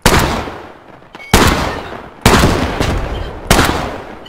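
Semi-automatic sniper rifle fire in the video game Squad: four loud, sharp shots spaced about a second apart, each with a long decaying echo tail, close and dominant.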